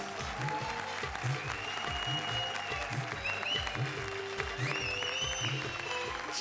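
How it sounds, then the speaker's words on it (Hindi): Audience applause on a comedy show stage, steady dense clapping from a studio crowd throughout with music and a few whoops layered over it. "जोरदार तालियां"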